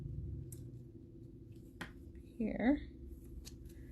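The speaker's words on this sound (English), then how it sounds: "So I'll use my scissors." Small scissors snip through paper during handmade card making, a brief crisp cutting burst close to the mic, with a few light paper rustles and taps around it and a voice speaking briefly.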